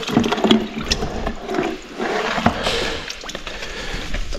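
Water poured over potted plants during outdoor watering in a village, an irregular splashing and trickling stream with brief gurgling bursts, close by and continuous, with no talking.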